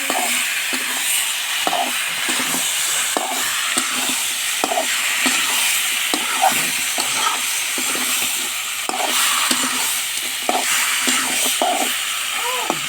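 Meat stir-fries in oil with cumin and plenty of garlic, a continuous close sizzle and hiss broken by regular scraping and stirring strokes throughout.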